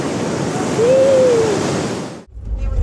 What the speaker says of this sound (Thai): เดี๋ยวอันนี้เราก็พักดูน้ำตกนิดนึงนะทุกคนวิวสวยมาก